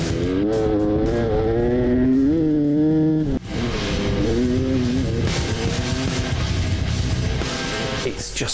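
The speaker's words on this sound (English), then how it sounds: "It's just such freedom riding along a desert track." A vehicle drives along a desert track, its engine revving and accelerating in rising and falling pitch sweeps, loud and close, with rough road noise underneath and a brief dip midway.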